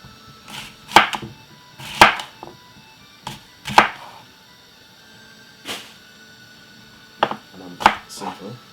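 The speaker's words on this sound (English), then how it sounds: "Cut up my apple chunky." A knife chops an apple into chunks on a board for a celery and apple salad, giving about eight sharp, irregular close taps with pauses between them and no talk.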